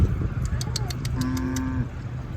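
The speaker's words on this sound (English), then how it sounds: "I just want to show you the cows." Cows mooing in a field, with one drawn-out low moo in the middle standing clearly above steady rumbling vehicle and road noise, plus a few fainter calls around it.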